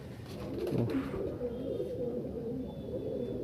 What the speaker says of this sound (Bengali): খুব সুন্দর পায়রাটা